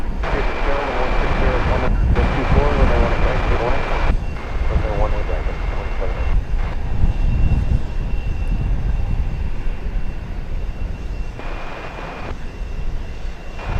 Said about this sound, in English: It's going to Mexico City. Flight 801 on an Airbus A321.